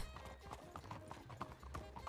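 Horse hooves clip-clop steadily in a town in Red Dead Redemption 2, a close, even rhythm of several quick hoof strikes with faint game ambience underneath.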